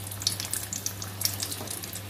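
Chicken samosas frying in hot oil give a soft, steady sizzle dotted with faint crackles and pops, over a low constant hum.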